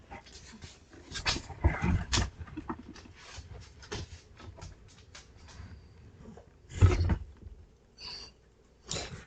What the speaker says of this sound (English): This dog, every time he see me get on this computer, here he come.